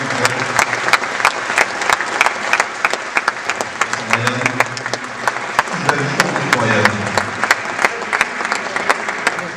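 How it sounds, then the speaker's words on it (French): Sustained, dense applause from an audience at the Vendée U 2013 cycling team presentation, loud and steady throughout, with voices talking over the clapping. "vous ne pouvez pas manquer les applaudissements"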